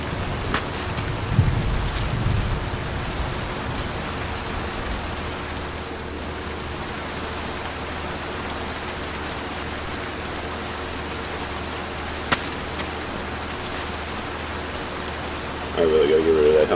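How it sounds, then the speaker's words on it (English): Heavy rain pours in the medieval game Kingdom Come: Deliverance 2, a loud, dense and constant hiss that fills the whole scene with a few brief knocks mixed in. "that rain is loud."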